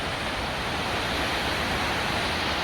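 A fast mountain stream fed by snowmelt near Mount Jefferson on the Pacific Crest Trail in Oregon roars nearby, steady and broadband with no pauses, and no voices over it.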